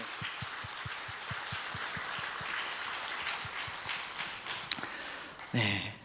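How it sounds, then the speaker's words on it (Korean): Congregation applauding in thanks during a Wednesday worship service at a church, a broad crackling wash of clapping with a steady rhythmic beat running underneath, then a brief louder burst near the end. "우리 하나님 아버지께 우리 감사의 박수로 한번 올려드리겠습니다"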